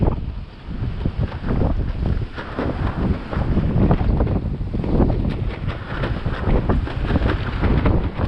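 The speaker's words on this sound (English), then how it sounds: "Turn the volume up because the wind is really loud." A strong desert wind storm roars steadily into the microphone with heavy, continuous low buffeting that stays loud throughout, with no voices.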